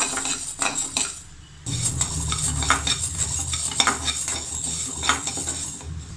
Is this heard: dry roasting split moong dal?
yes